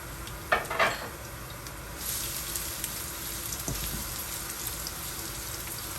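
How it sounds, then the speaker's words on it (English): Chopped garlic hits hot oil in a pan: a couple of clinks from a utensil come first, then a soft, steady sizzle hisses quietly for the rest, with no talking. "To my oil, I'm gonna go in and add my chopped up garlic and let this start release or build some flavor to the pan."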